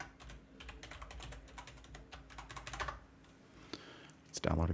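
Password being typed on a computer keyboard during a PulseChain validator setup, rapid close key clicks in uneven bursts over a steady low hum, ending with a louder clatter.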